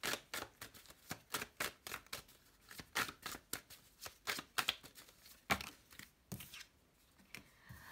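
Tarot cards are shuffled by hand in quick, irregular bursts of soft riffling flaps and taps, close and quiet, with no voices.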